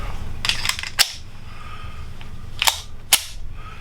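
A Springfield 911 pistol has its slide worked to chamber a round, giving a few sharp metallic clacks and snaps close by. A cluster comes early, with two more near the end.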